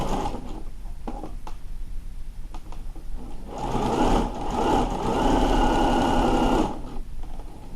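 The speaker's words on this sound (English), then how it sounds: "And then we're going to sew along here" A sewing machine stitches along a sleeve cuff in a few short bursts, then runs in one loud, steady stretch of close, fast mechanical whirring with no talk.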